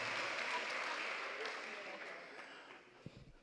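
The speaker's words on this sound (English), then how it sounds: "Give me a round of applause first." Audience applause at a public hearing in a town hall, clapping that starts fairly strong and fades away, ending in a few sharp knocks.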